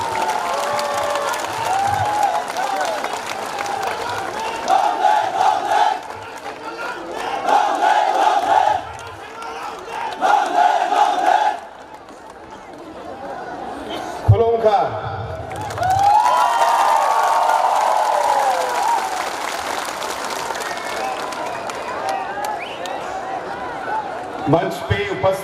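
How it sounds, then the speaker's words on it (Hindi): A large crowd at a political rally in Khumulwng, Tripura, for the Meghalaya Chief Minister bursts into repeated waves of applause, cheers and shouts. A voice on the loudspeaker talks between and over the outbursts. "सभी साथियों को अनुरोध करूंगा हमारे सीएम साहब के स्वागत में तालियों की गड़गड़ाहट होनी चाहिए।"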